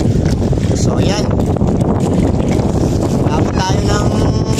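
Strong wind blowing at sea around a fishing boat, a loud continuous broadband roar with gusts and water wash that fills the whole clip, with a voice faintly audible underneath.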